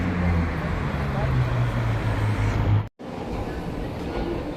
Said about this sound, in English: I'm on Alicante's tram system now